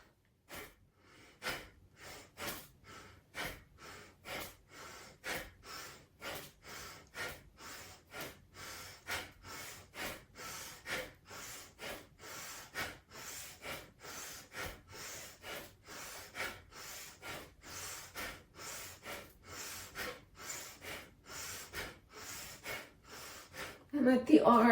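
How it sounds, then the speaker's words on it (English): Forceful, rhythmic breaths through the nose repeat at a quick, even pace, around thirty close, loud bursts during a standing breathing exercise with knees bent and hands in fists, with no talking. "Take a deep breath in"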